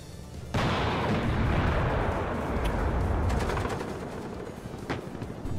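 Artillery barrage in the real-time strategy game WARNO, a sudden loud onset of dense rumbling fire that continues heavily with sharp cracks on top, then eases slightly toward the end.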